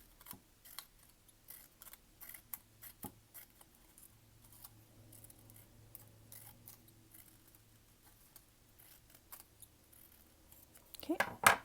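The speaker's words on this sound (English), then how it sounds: "Take the other one, cut out some V's." Scissors snip V shapes from paper while crafting a fire-breathing dragon, a string of faint, quick cutting clicks in a quiet room, with a louder rustle at the end.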